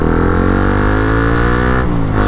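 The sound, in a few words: motorcycle engine starting the ride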